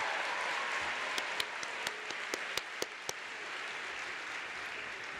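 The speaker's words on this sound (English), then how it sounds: "Please give a round of applause for his playing." A commencement audience applauds an organist's playing in a broad, distant wash of clapping, with a handful of sharp nearby claps in a loose rhythm before they thin out.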